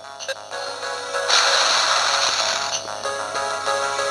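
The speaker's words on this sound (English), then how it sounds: "Push and move this TNT block." A TNT block shoved across the floor in Ms. Pac-Man Maze Madness on Game Boy Advance, with a few sharp clicks and then a loud, steady grinding scrape that runs for several seconds with no voices.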